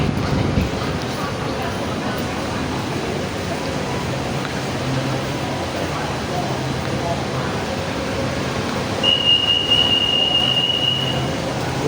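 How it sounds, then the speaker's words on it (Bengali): An underground metro train arrives at a deep station in Bangkok with a steady, loud rumbling roar of wheels and carriages. A thin high squeal of the wheels rises near the end. "মাটির নিচ থেকে ট্রেন চলে আসছে।"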